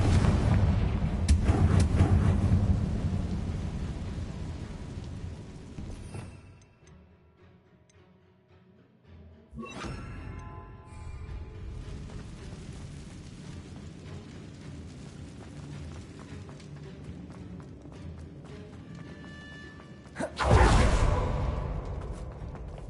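Confringo spells go off during a Hogwarts Legacy boss fight on PS5: loud, booming blasts and rumbling bursts with whooshes, dropping to near quiet midway before another heavy explosion near the end.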